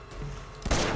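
A shotgun fires in the Uncharted 2 Remastered video game: a quiet lull, then a sudden booming blast with a rumbling tail, mid-distance.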